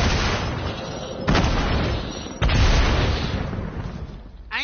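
Rocket blasts in a shooter video game, a sustained roaring barrage with two sharp heavy explosions landing in sequence, loud and close.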